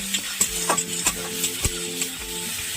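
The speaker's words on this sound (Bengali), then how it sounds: "এবার ওই টমেটোটা দিয়ে আমি ভালো করে মশলাটাকে কষিয়ে নেবো" Tomato and spices frying in a pan for a fish-head and cabbage ghonto, with steady sizzling broken by repeated scraping strokes of a spatula stirring the mixture, close and moderately loud.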